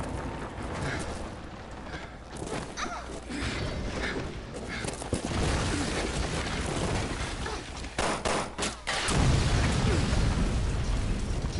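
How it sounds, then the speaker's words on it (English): Explosions in the video game Resident Evil: Revelations 2, several booming bursts among mechanical game noise and effects, with a final heavy blast near the end. "Nice kaboom, Wily."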